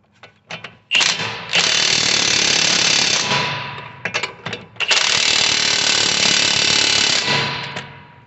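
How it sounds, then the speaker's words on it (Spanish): A ratchet tightens nuts on the driver-side drive axle of a 2013 Toyota RAV4, with two long bursts of rapid clicking, each preceded by short clicks and metal handling, close by and loud, with no talking. "Vamos a ponerle las tuercas. Bueno, y ahí ya podemos apretarlo."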